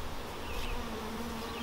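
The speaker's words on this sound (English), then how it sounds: "place that down in this box that's just packed full of bees, lots of young bees in there" Honey bees fill a hive box packed with young bees, giving a continuous close, low hum that holds steady throughout with no talking.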